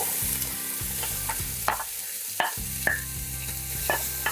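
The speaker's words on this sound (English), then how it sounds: "Listen to that sizzle." Onion, celery, bell pepper and jalapeno frying in an oiled pan, a continuous close sizzle punctuated by several sharp clacks of stirring against the pan, with no talking.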